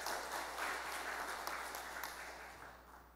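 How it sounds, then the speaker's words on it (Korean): Church congregation clapping in a fairly distant, soft burst that gradually fades toward the end. "박수 한번 쳐요."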